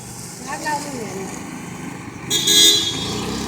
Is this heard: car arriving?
yes